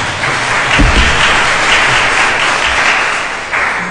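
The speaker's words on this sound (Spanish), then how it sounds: "Un aplauso, ¿sí?" Audience at a talk on European programmes breaks into loud, sustained applause, a dense wall of clapping that swells slightly and carries on steadily to the end.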